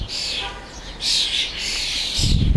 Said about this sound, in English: These birds are really loud.